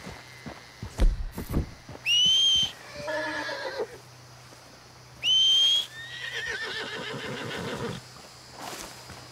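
A donkey in Red Dead Redemption 2 brays and whinnies loudly twice, each call a rising squeal followed by harsh heaving brays, with hoof clatter and light game ambience between calls.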